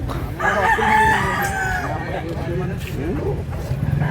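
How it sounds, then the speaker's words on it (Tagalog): A rooster crows loudly and close by, one drawn-out call with a chicken's clucks around it, while someone talks over the sounds at a rooster sale in Cebu. "Gandang manok."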